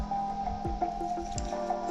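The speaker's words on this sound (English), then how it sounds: "So then I add quinoa that have already been cooked." Cooked quinoa is spooned into a pot of yam and beans porridge, making soft wet squishes and a few drips over a steady low hum, close and quiet.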